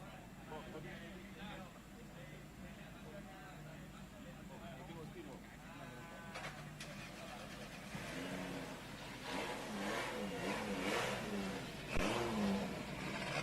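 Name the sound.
drift cars (S14, Nissan R32) engines revving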